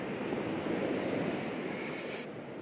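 Small sea waves rolling in on a stormy morning, a steady close wash of surf mixed with blustery wind rumbling across the microphone, no voices.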